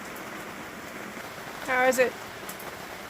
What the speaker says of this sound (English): the rain create waterfalls over the mountains as we prepared dinner